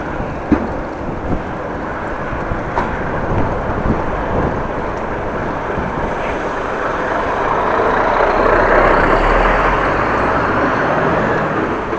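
A truck waits at a fuel depot in Groningen, heard from a passing bicycle as a steady low rumble mixed with heavy wind buffeting and distant traffic, with no voices.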